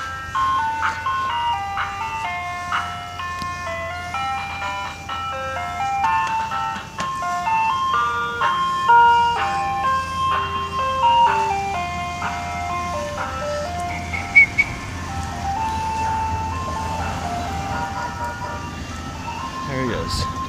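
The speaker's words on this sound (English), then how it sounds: "Ice cream truck, it's a picnic song with Omni Music Box." An ice cream truck plays the picnic song on an Omni music box, a bright, steady chiming melody repeating over a low idling vehicle hum.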